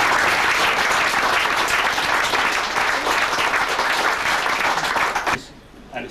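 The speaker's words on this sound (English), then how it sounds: "But the fundraising committee, which was first set up by John Stainer, need a huge round of applause" Loud, sustained applause from a crowd at a cricket club gathering, many hands clapping together for the fundraising committee, continuing strongly before cutting off abruptly near the end.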